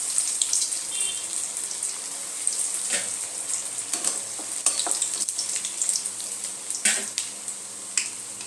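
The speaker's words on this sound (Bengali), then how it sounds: "তেলটা আমার গরম হয়ে গেছে, এর মধ্যে এবারে আমি কাটলেটগুলো দিয়ে দেবো।" Crispy potato cutlets fry in hot oil in a kadai over a low flame, giving a loud, steady, bright sizzle with scattered pops and spatula taps.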